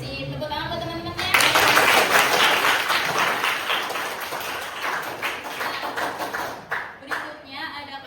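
Audience applause breaks out in a classroom session, a burst of dense clapping that starts abruptly, holds for several seconds and then thins into scattered claps, with a voice faintly underneath.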